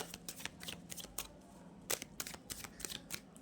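Tarot cards shuffled and pulled from a deck, a quick run of crisp riffling snaps and flicks, close and fairly quiet, with brief pauses between.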